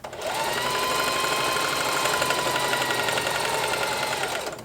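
A sewing machine set to stretch stitch runs steadily through heavy material, a loud, continuous motor whir with rapid needle ticking that holds for several seconds before easing off at the end.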